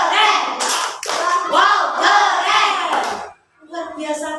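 A group of children claps and chants together in a patterned classroom cheer, the voices and hand claps ending in a short burst after a brief pause.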